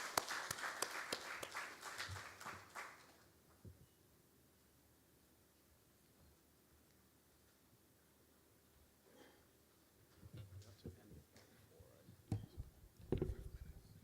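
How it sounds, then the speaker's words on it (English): Audience applause at a T+1 settlement cycle transition ceremony bursts out for about three seconds and then dies away, leaving a quiet room, before a few scattered claps and shuffles return near the end. "Please give him a round of applause as he comes to the podium."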